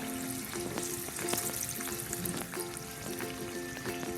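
Small rice-flour ada snacks deep frying in oil make a constant dense sizzle with bubbling and light crackles, close and steady throughout, with no voices.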